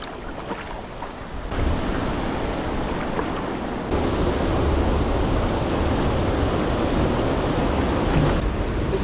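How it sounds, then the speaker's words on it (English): A waterfall at an old historic canal sends out a steady, full rushing roar of falling water. It grows louder in steps, as if approached, then stays constant and close. "I'm gonna go check out this waterfall first though."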